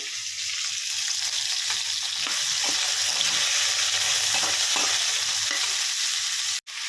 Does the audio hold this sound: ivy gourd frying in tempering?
yes